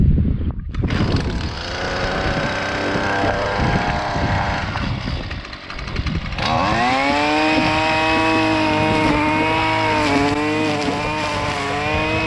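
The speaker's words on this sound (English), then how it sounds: "Since this engine's already warmed up, we're gonna do a warm start" A Husqvarna 128LD string trimmer is warm-started with a pull, sputters, and then runs with a steady, loud, high-revving two-stroke whine that changes pitch slightly, close to the listener.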